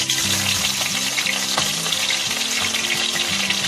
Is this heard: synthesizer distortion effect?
no